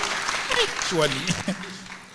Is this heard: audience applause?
yes